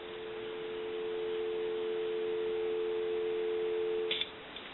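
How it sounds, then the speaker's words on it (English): A steady telephone dial tone on a wood wall crank telephone converted for modern lines hums without a break for several seconds, then cuts off with a faint click. "So we'll go ahead and give you some dial tone."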